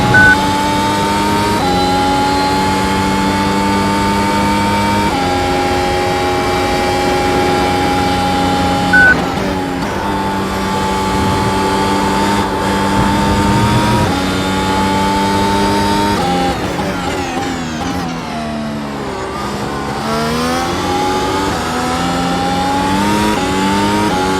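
An F1 race car lapping Silverstone in a realistic sim racing game, its loud, constant engine whine climbing and dropping in pitch through gear changes for the whole stretch, with no talking.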